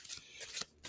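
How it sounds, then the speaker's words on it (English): A deck of intention cards being shuffled by hand, with a few quick riffling bursts of card noise close by and no one talking. "I'm shuffling like my grandmother used to shuffle."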